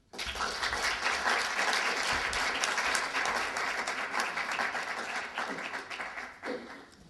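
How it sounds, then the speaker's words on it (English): Sustained audience applause at a conference honouring Thomas Sankara, a dense, steady wash of clapping lasting about seven seconds with a brief dip near the end. "Let's give us another round of applause to all the speakers"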